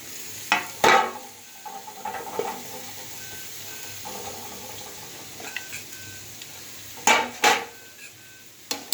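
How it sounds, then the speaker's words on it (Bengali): Tomato goes into a sizzling tarka in a pan, a low frying hiss under stirring, punctuated by a few loud metallic clanks of a spoon against the pan. "এবারে আমি টমেটোটাও দিয়ে দেবো।"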